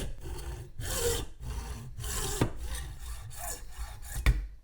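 A hand saw cutting through PVC pipe in smooth back-and-forth strokes, each stroke a loud rasping burst separated by short pauses, with a couple of sharp knocks near the end; no talking.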